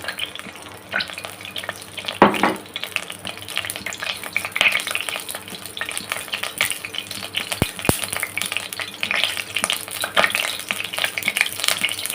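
Oil heats and crackles in a pan before garlic goes in for a tiger prawn masala. The sizzle is soft and uneven, broken by clinks and a few sharp taps, and no one speaks.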